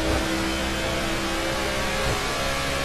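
NASCAR race car engine at Atlanta roaring steadily with a revving rise, a dense continuous mechanical drone filling the whole stretch, loud and close with no talk.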